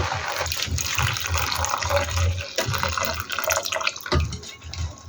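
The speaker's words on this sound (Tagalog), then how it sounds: "ilagay na po natin unti-unti ang ating pinakuloang evaporated milk" Boiled evaporated milk is poured gradually into a mixture in a kitchen, giving a continuous close liquid splashing and trickling with a few brief pauses.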